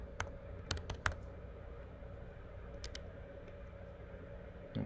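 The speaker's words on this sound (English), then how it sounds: "I'm going to type in, what is the command?" Someone taps a few keys on a computer keyboard while entering a command, with a handful of faint clicks near the start and a couple more later over a steady low room hum.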